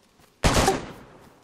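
A single loud gunshot cracks out in the video game DayZ, then fades into a short echoing tail.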